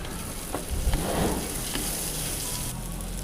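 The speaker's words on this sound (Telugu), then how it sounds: "ఒక 1/2 teaspoon పసుపు వేసుకొని ఫ్రై చేసుకుందాం" Ginger garlic paste and turmeric sizzle in a hot pan, a close crackling hiss with a brief stirring scrape near the start, then settling into a steady fry.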